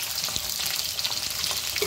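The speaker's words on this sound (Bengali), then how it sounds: "এবার আলুগুলো দিয়ে দেবো একটু ভেজে নেব" Potatoes frying in hot oil with bay leaf and whole spices for a Bengali dhokar dalna curry, a steady close sizzle with faint stirring scrapes throughout, no voices.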